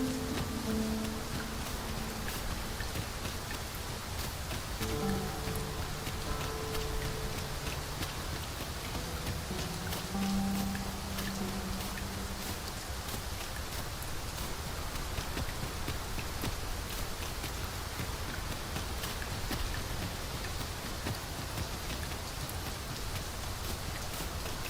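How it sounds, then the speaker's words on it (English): A heavy, steady downpour hisses continuously throughout in the video game Dragon's Dogma II, with faint low tones drifting underneath. "We must be really down on our luck to get caught out in such a downpour."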